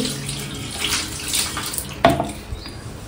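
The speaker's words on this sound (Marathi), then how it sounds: "इथे गरम पाणी काढलेलं बघू शकता, तर याच्यात थोडंसं भरून ठेवते" Hot water runs steadily from a tap into a container to soak kitchen chimney parts, a continuous close splashing flow with a brief knock near the end.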